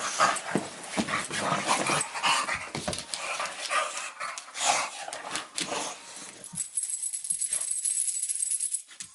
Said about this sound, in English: Dogs in action.